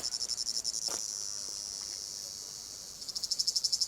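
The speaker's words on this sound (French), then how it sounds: "Les cigales, les grillons." Steady, dense chirring of cicadas and crickets with a pulsing rhythm at the start and end, smoothing into a continuous buzz in the middle, fairly loud and close.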